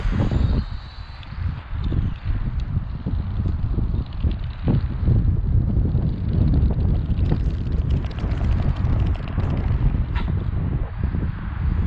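Strong wind buffets the microphone in continuous loud gusts over a parking lot where a 1/10 scale RC F1 car runs, roaring and rumbling throughout with faint rustling underneath.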